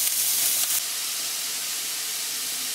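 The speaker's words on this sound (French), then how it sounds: "On va déglacer tout ça." Garlic and onions hit a hot pan as it is deglazed, giving a loud, steady hiss of steam and sizzle that runs through the whole moment, slightly stronger at the start.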